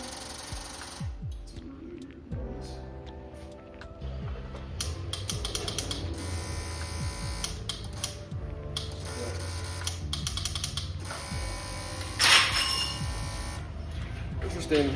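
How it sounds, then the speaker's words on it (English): A 2006 Suzuki GSX-R 1000 motorcycle gives repeated small mechanical clicks and ticks as it tries to prime the fuel pump, close and fairly quiet, with some rattling and a voice speaking faintly. "It clicks, but it tries to prime the fuel pump or fuel injectors."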